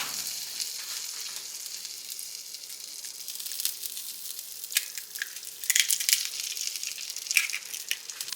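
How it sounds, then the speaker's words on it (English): Egg frying in a pan beside sausage, a steady close sizzle with crackling pops that grow busier and louder toward the end, no voices. "I'm going to go ahead and cook my egg."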